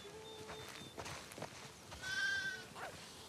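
A sheep bleats in a wavering, slightly synthetic tone amid faint background sounds, quiet and somewhat distant, in the video game The Last of Us.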